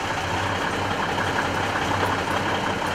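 The engine of a ten-ton vehicle idles steadily with its throttle cracked slightly open after a fuel problem, a constant low rumbling drone with even pulsing, close and continuous, without talk.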